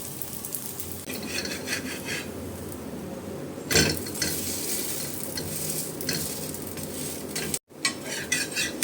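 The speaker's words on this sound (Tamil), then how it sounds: "எண்ணெய் விட்டுக்கலாம் அடியில் வெந்து ஒரு லைட்டாக ப்ரௌன் கலர் வந்தோடனே திருப்பி போட்டு எடுத்துட வேண்டியது தான்" Orappadai batter cooks in oil on a pan for a Thanjavur-style village snack, giving a steady sizzle with scraping and stirring sounds throughout and a louder scrape near the middle.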